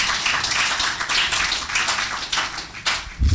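An audience at a 2019 panel discussion conference claps in a steady, moderately loud round of applause that fades slightly before a final thump.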